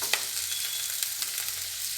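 Carrots, cabbage and beans frying in a pan for sabudana pulao, a steady close sizzle with a few soft scraping knocks from stirring.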